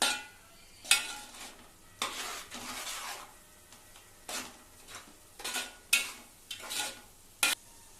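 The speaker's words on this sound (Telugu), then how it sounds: "ఉప్పు పసుపు వేసుకుని బాగా మిక్స్ చేసుకోవాలి." Salt and turmeric are stirred into a cooking pan, heard as repeated scraping strokes of a utensil against the pan in short bursts with quiet gaps, over a faint sizzle.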